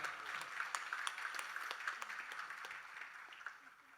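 An audience claps for a chorus team at a stage performance of lavani songs, producing a few seconds of scattered, moderately distant applause that fades slightly toward the end.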